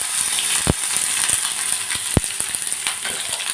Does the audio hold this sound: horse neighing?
no